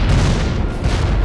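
Loud, sustained rumbling blast from explosions in the video game Crysis, a dense low-heavy roar filling the whole moment with no pause.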